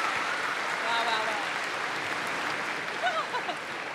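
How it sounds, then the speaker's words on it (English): Audience applause at a Star Wars Celebration convention panel, a broad steady wash of clapping from a large crowd with some faint cheers and whistles near the end. "Everybody, can we please get one more round of applause?"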